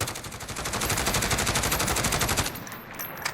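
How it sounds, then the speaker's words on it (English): A FAMAE Mini-SAF fires a sustained full-auto burst of rapid, evenly spaced shots in Call of Duty Modern Warfare, loud and close for about two and a half seconds, then cuts off into faint mechanical clicks. "So first off, we'll just aim and let this thing rip and not control the recoil."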